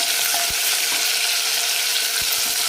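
Onion-coconut paste sautéing in a pan for a village-style egg curry, giving a steady, close sizzle with a few soft thuds of stirring.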